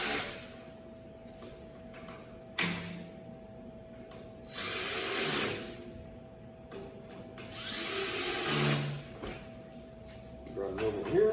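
A power drill on speed setting 3 whirs in two short bursts, each a couple of seconds long, separated by quieter stretches with a steady background hum.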